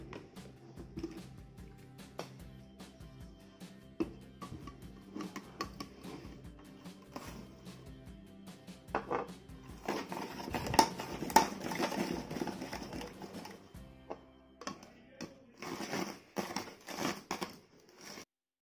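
Four quartered onion pieces being chopped in a Ganesh hand chopper, with scattered plastic clicks and rattles building to a dense burst of rapid clattering chopping in the middle, then a few sharper knocks near the end.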